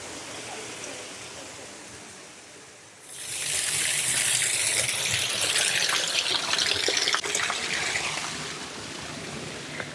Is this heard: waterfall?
yes